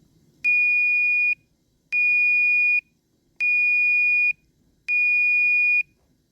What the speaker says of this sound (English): the 1 minute 4-horn courtesy notification. That's the first thing that you're going to hear